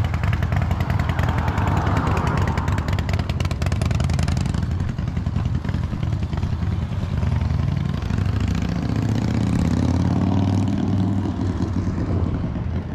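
A motorcycle engine rumbles loudly and continuously close by on a street walk, its roar shifting in pitch as it passes and then settling into a low, heavy drone.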